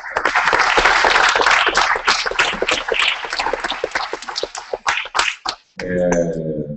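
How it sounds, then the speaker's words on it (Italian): A crowd at a community event day applauds the organizers with dense, loud clapping that breaks into scattered individual claps before a voice starts speaking. "la prima cosa che devo fare è un applauso a voi che avete organizzato questa giornata"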